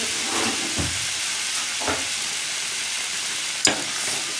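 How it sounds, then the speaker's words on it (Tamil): A thick wheat and lentil pudding being stirred in a pot, with steady bubbling and soft scraping strokes at irregular intervals and no talking. "இதை கொஞ்சம் கிளறிக்கோங்க"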